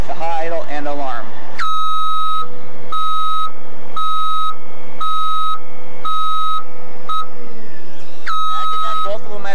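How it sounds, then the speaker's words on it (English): A loud stabilizer warning alarm on a 2000 Pierce Sky Arm fire truck sounds as a steady series of about eight evenly spaced electronic beeps, each roughly half a second long. "Every time I engage it, that's when it's going to automatically deploy the hot idle and alarm."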